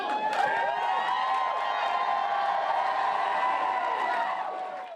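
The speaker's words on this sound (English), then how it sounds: "Raucous applause greeted first-time Stanley Cup champion Robert Bortuzzo as he made his way into the Da Vinci Center ballroom" A crowd applauds and cheers for first-time Stanley Cup champion Robert Bortuzzo as he enters the Da Vinci Center ballroom, a steady dense roar of clapping and whoops held at even loudness for several seconds before easing off.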